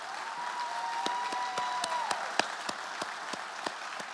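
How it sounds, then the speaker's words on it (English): An audience at the Corvette Hall of Fame induction ceremony in Bowling Green gives a sparse round of applause, with scattered distinct claps over a quiet room and a faint tonal whistle in the background. "So can we give a quick round of applause to the staff at the museum"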